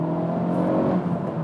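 The engine of a Honda Civic Type R blips and rises as it rev-matches on a downshift, a loud, close, steady mechanical drone heard from inside the car.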